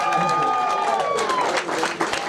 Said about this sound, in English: Can we clap for diversity one time?